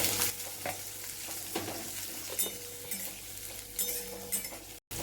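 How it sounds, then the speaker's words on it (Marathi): Chopped onion with cumin seeds sizzles and is stirred in a pan over high gas heat, with clinking and scraping of a spoon against the pan, close and steady, no speech. "आता इथं आपण फास्ट गॅसवर कांदा परतून घेणार आहे."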